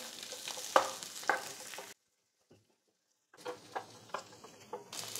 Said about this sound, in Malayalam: ഇതും കൂടെ ഒന്ന് ഇളക്കി കൊടുക്കാം. 2 മിനിറ്റ് നേരം ഒന്ന് ഇളക്കാം മീഡിയം ഫ്ലെയിമിൽ.